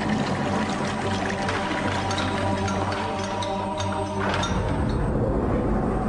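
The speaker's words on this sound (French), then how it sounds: "Goutte à goutte, l'eau suinte de la terre jusqu'aux passages étroits et aux citernes." Water seeping and trickling through narrow underground passages and cisterns of medieval Bottini tunnels, a steady, dense, loud wash of flowing, pouring water with no break.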